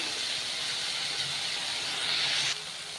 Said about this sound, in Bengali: ভালো করে ভেজে নেব ফুলকপিটা।